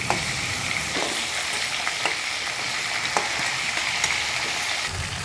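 A catla fish head fries in hot oil with a dense, even sizzle and crackle, close and loud, broken by light periodic taps of a stirring utensil, with no voices.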